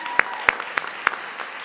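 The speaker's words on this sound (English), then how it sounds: "I think Dave deserves a round of applause" A small audience gives sparse, scattered claps in honour of Dave at a women-of-the-year awards event, a handful of distinct hand claps spaced irregularly rather than a full ovation.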